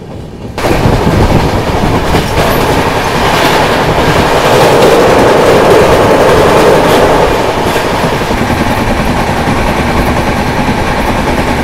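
Passenger train on an Indian rail route rumbles steadily with loud, continuous wheel and carriage noise and faint clickety-clack, heard close from on board, with no talk.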